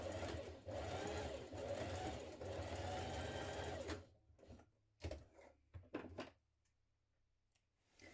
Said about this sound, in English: You're going to stitch down the side seam.